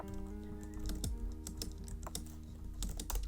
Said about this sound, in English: I'm gonna code it first and then I'll explain. So I'm gonna write Ayush token